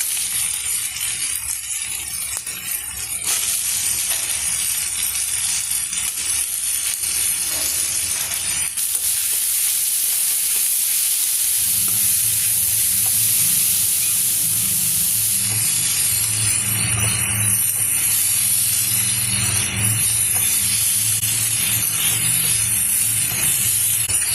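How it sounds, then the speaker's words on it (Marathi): Chopped radish tipped into a pan of sautéed tomato sizzles loudly and steadily, a dense frying hiss that thickens as the pieces settle and keeps up with no voices. "आता आपण चिरलेला सगळा मुळा टाकून घेऊया."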